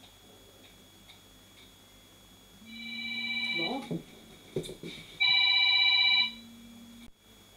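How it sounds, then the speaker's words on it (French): A telephone rings indoors in two bursts of electronic trilling separated by a short gap, fairly clear over quiet room tone, with brief speech and rustling in between. "j'avais entendu le téléphone, donc j'ai pas eu le choix de répondre"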